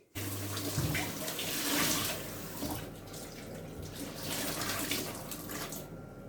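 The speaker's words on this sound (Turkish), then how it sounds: "Bir çeşmede yıkayacağım." Water runs steadily from a kitchen tap while something is rinsed, a continuous close splashing rush that shifts slightly in texture throughout.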